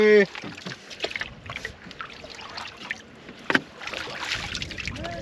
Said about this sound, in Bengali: এই তো নৌকাটা হিলছে